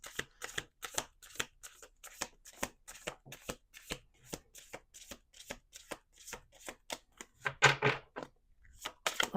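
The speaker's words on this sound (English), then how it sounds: "Two more shuffles." A Lenormand card deck is shuffled by hand in a quiet room, a string of crisp riffling and tapping bursts repeating at an uneven rhythm, close and fairly soft.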